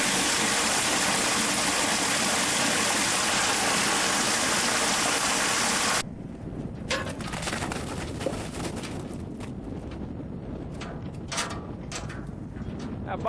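Water drains through dewatering screens with a loud, dense, rain-like hiss that cuts off abruptly partway, leaving quieter patter and faint dripping with scattered sounds.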